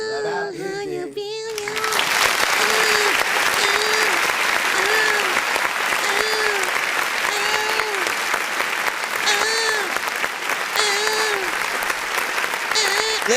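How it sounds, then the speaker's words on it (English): A live crowd at a music reaction show claps and cheers continuously after a song ends, loud and dense, while a voice speaks over the applause and short tonal sounds recur. "Stop all the clapping."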